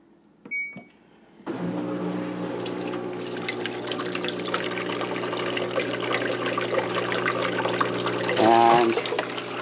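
An LG WM0642HW washing machine starts its drain and spin cycle: a click and a brief thump, then a steady humming pump and motor with water rushing, holding constant for several seconds.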